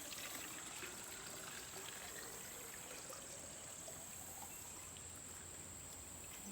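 Water is poured out of a sampling bottle, a soft continuous trickle and gush that runs steadily and faintly throughout with no talk.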